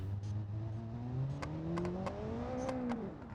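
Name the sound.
car engine revving and backfiring in a video game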